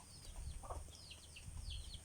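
Backyard chickens clucking softly at a distance, a few short calls scattered over two seconds against faint background noise.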